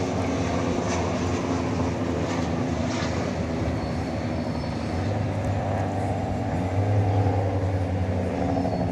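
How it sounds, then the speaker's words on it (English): An American Airlines jet arriving at DFW Airport at night from Newark sends a sustained, rumbling engine roar that swells near the end, with a low droning tone emerging. "We've got American Flight 813 coming in from Newark"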